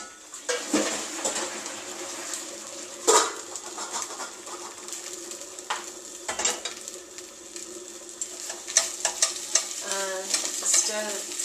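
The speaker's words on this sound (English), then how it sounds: "Stir this in so the milk cooks down." Peas and milk being stirred in a pan on the heat, with repeated scraping and clattering strokes over a bubbling simmer and a few sharper knocks of the utensil against the pan.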